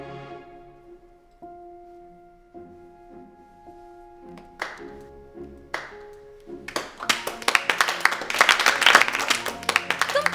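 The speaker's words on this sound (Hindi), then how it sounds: "तुम तालियां क्यों बजा रहे हो?" Children in a school applauding a classmate's campaign speech: scattered claps swell into dense, lively applause, with soft music underneath.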